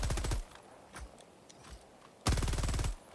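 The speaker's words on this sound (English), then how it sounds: "let's check out the stalwart. So, again, very similar to the other machine gun." Stalwart machine gun from Helldivers 2 firing two rapid automatic bursts, each under a second, separated by a quieter gap with a few single distant shots.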